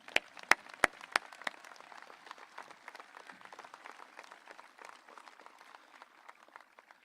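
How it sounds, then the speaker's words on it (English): A graduation crowd at Johnsburg High School's 2024 ceremony applauds the speakers, opening with a few sharp, loud claps before settling into steady, moderate clapping that gradually thins and fades toward the end. "give our 3 speakers a great round of applause"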